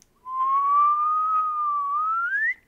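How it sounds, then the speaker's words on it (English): One sustained whistle, fairly pure and steady, drifting gently upward in pitch toward the end, heard alone against a quiet background. "it kind of makes sense if I make a sine wave by whistling"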